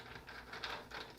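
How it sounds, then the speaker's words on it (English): Mechanical keyboard switches pressed one after another into hot-swap sockets on a BM40 40% keyboard build, a series of close, light plastic clicks and snaps at an irregular pace, with no talk. "finish up putting the switches in"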